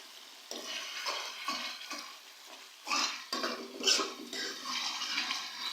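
Masala spices and mashed tomato roast in oil in a pan, giving a soft continuous sizzle as a utensil scrapes and stirs in uneven strokes, close and moderately quiet.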